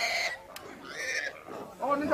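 A pig in Papua New Guinea gives nasal oinks and grunts, brief and close, with a voice speaking over them.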